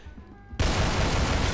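A small gun in a video game lets off a sudden burst of dense, rapid gunfire that starts abruptly after a quiet moment and continues loud and continuous to the end.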